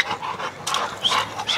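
A big blue-coated dog pants heavily at close range, the quick rhythmic breaths rising and falling steadily without any talk over them.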